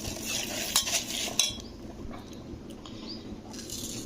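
A spoon scoops mustard seeds into a dish, with a few quick metallic clinks and a brief rattle of seeds up close, then quieter kitchen background.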